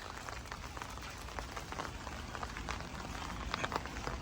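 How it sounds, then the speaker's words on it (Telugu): Light early-morning rain in Korea patters steadily and softly outdoors, a faint even wash of scattered drops continuing throughout with no voices. "భలే ఉంటుంది కదా ఈ వాన సౌండ్ వింటా ఉంటే"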